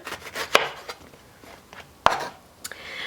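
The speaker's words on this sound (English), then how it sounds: "We're gonna cut off the bottom, about 1/2 inch or so up." A knife slicing the bottom off a grapefruit on a cutting board: two sharp, close cuts about a second and a half apart, with quieter scraping and handling between them.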